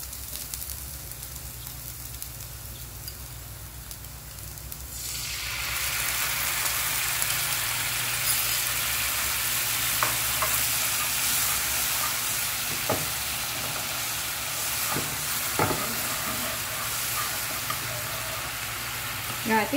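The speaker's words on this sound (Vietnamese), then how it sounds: "mình sẽ bắt đầu cho cái phần nước mắm mình đã pha lúc nãy vào nha" Garlic and fish sauce sizzle hard in a hot pan for frying squid: a quiet start, then a sudden loud, steady crackling hiss from about five seconds on, with a few sharp pops and spatters.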